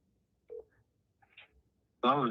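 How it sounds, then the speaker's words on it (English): A cell phone call being placed: a few short, soft dialing tones sound in quick succession, then a louder, sustained ringing or tone fills the end of the clip, with no one speaking. "I'm just gonna give him a call on my cell phone, make sure my texts go through."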